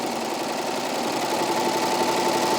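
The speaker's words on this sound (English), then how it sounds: "I would serge at a consistent speed. It does a much nicer rolled hem." A Baby Lock Acclaim serger stitching a rolled hem on a single ply of cotton fabric, a loud, close, steady mechanical whirr that runs at an even speed throughout with no break.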